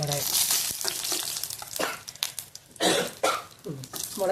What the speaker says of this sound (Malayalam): മുളകിൻ്റെ കുത്തലൊക്കെ വന്നപ്പം ഒരു ചുമയൊക്കെ വേഗതിങ്ങി വന്നു